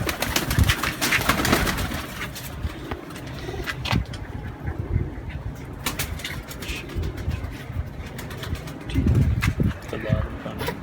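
Pigeons coo among the constant rustle and flutter of many birds close by, with people talking over the busy background.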